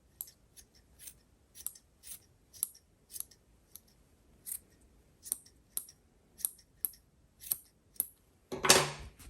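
Scissors snip knitted yarn in a quiet room, a series of sharp, crisp clicks at an uneven rhythm, close and clear, ending in a louder rustle of handled yarn.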